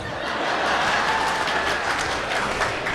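Studio audience at a Tamil talk-show debate applauding, a steady dense wash of clapping with some chuckling mixed in, loud and continuous throughout.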